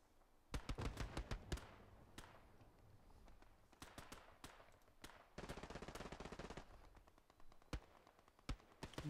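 Rapid bursts of gunfire from the WWII tactical shooter Hell Let Loose, set in the Hürtgen Forest, crackle in sharp volleys of machine-gun and rifle shots, some loud and near, others more distant, with no talk.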